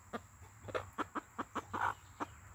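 A mother hen clucks to newly hatched chicks, a run of short, separate clucks in an uneven rhythm, close and fairly soft, with a longer call near the end and no talking.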